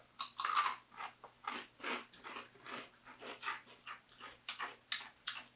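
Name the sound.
crunching on rolled tortilla chips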